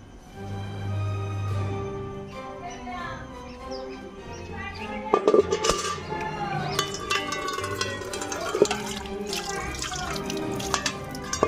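A thin stream of drinking water runs from a tap into a container, a steady trickle and splash with occasional drips, with birds chirping faintly in the background.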